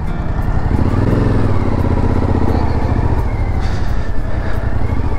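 A motorcycle rides up onto a ferry, its engine running loud and steady right at the microphone, with a continuous rumble and wind roar throughout.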